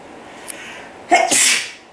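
A single loud, close sneeze from a woman with allergies, a short intake followed by a sharp explosive burst that trails off quickly.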